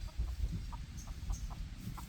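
Chickens cluck in short, soft bursts against a noisy outdoor background, fairly faint and at a moderate distance.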